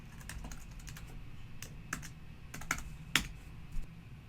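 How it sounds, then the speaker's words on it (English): A password is tapped out on a computer keyboard in quiet, irregular keystrokes, a few sharper clicks standing out, with no voices. "I'm going to type in my password"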